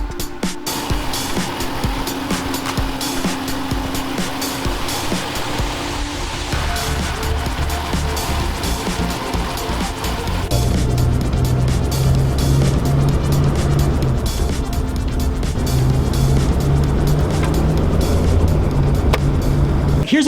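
A Jeep fitted with Brown Dog motor mounts drives on a test run, its engine humming and road noise rumbling steadily, swelling louder and heavier partway through as it picks up speed, heard from inside the vehicle.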